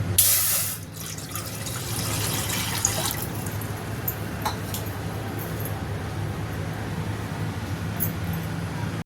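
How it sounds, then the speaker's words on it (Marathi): Water pours steadily into a cooking pot while semolina kurdai is being made, a continuous close splashing wash that runs the whole time, with no talking. "चीक होता तेवढंच आपण त्यामध्ये पाणी ओतलेलं आहे"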